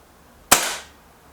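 A single sharp crack from a Reximex Accura walnut air rifle, close and loud, with a short decaying tail in an otherwise quiet space.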